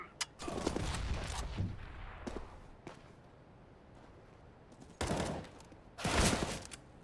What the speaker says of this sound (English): See if he's going to shoot him. Looks like he's shooting at him.